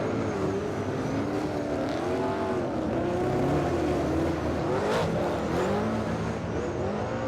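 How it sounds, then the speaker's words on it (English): Several 800 horsepower super saloon race cars at a New Zealand championship race roar through a corner, engine notes rising and falling as they overlap, loud and continuous with no talk. "Listening to the sound of the 800 horsepower mighty beasts as they throw the cars into turns 3 and 4."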